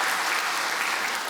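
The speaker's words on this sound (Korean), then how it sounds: "우리가 환영의 박수, 격려의 박수 하도록 하겠습니다" A church congregation at a Sunday worship service gives steady, even applause to welcome a missionary family, a brief continuous wash of clapping with no voices over it.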